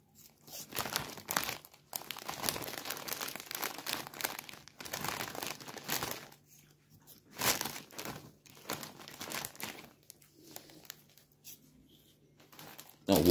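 Plastic snack bag of Lulu Puffs crinkling and rustling as it is torn open, in repeated bursts of close, loud crackling with brief pauses between, ending in a sharp crunch.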